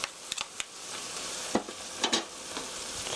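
Minced pork stir-fried with a heaped tablespoon of doubanjiang in a pan, a soft sizzle under scattered clacks and scrapes of a utensil, close and fairly quiet, no talk.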